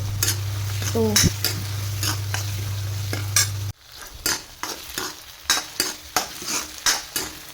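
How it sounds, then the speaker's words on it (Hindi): Tomatoes and onions for rajma are sautéed in a pan, with a steady sizzle and repeated scraping stirs of a spatula that fall into a regular rhythm, close and fairly loud without any talking. "तो बस ये टमाटर और प्याज दोनों ही अच्छे से भुन गए हैं।"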